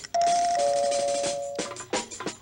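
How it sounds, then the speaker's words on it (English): A doorbell chimes twice in a two-tone pattern, loud and close, followed by a few quieter knocks and clattering sounds. "Answer the doorbell."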